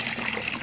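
Water rushing out of a backyard pool converted into a fish pond, a steady close gushing and splashing without pause.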